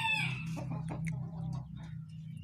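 Green junglefowl giving a short run of low clucks and crow-like calls, close by and fairly quiet, with no other voices.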